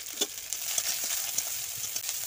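Onions and a few ripe green chillies frying in oil in a wok, a steady close sizzle with faint scrapes and light pops throughout, no voices.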